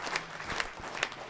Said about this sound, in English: give Grace Macaluso a round of applause for just an outstanding job